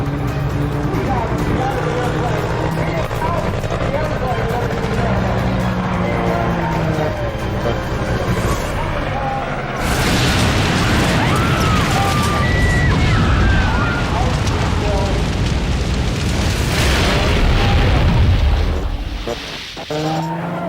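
Corsair fighter plane with a 3,000 horsepower engine self-destructing and crashing, a loud rumbling roar that bursts into a sudden violent crash and explosion midway, with a dramatic score and narration layered over it.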